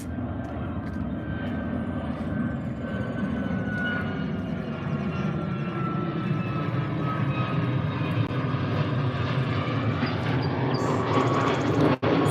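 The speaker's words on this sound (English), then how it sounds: "There's always planes. Living near the John Wayne Airport" A passenger plane roars overhead near John Wayne Airport, a loud, sustained jet rumble with a faint whining tone that holds steady throughout and eases slightly near the end.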